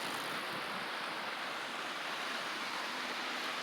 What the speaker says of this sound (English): Ah, the soothing sound of the waves.